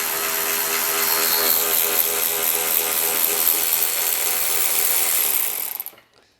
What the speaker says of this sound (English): I can zip it off with a trigger.